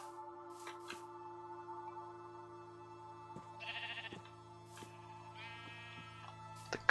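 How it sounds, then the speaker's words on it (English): Sheep bleat in the Minecraft video game, two or three short, faint, wavering calls spread across a quiet stretch with soft sustained game tones beneath. "Some sheep."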